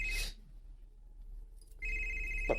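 A cellphone rings with two short electronic bursts, one at the start and another near the end, separated by a quiet pause, fairly close and alone without speech.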